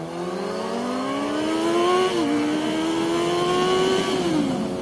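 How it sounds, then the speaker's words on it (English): A Mustang engine revs hard under heavy throttle, its pitch rising steadily through a gear, dipping briefly at a shift, then climbing again before easing off, loud and close with road and wind noise. "you got this Mustang who's like just mashing on the throttle"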